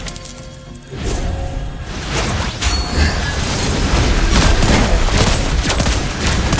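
Lesley's gun firing in Mobile Legends: Bang Bang, heard as loud, dense rapid gunfire with bursts and mechanical clatter. The firing builds after a brief quieter opening and carries on without pause.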